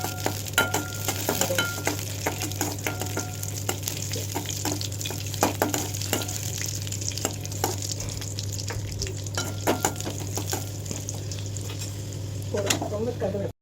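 Cashews and raisins frying in a pan for semiya paal payasam, a soft continuous sizzle with occasional stirring scrapes and clinks, fairly quiet and close over a steady low hum.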